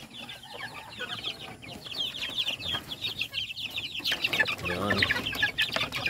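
A flock of pet chickens clucks busily while being fed, with overlapping calls close by and someone speaking briefly over them.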